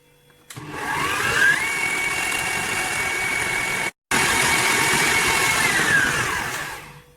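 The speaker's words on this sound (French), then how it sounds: "je vais re-augmenter la vitesse presque au maximum. Cette fois-ci encore 1 minute. Ce qui nous fera un total de 5 minutes de pétrissage." Stand mixer kneading Neapolitan pizza dough at near maximum speed, a loud steady motor whine that ramps up, cuts out briefly midway, then resumes and winds down at the end.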